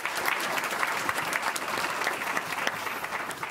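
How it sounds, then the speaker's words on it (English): A board meeting audience gives a round of applause for high school students. Steady, dense clapping from many hands fills the room at moderate loudness, with no speech over it. "please give them a round of applause"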